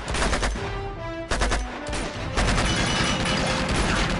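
Gunfire in the video game Uncharted 2: Among Thieves, loud bursts of rapid shots and booming impacts filling the whole stretch, dense and close with no talk.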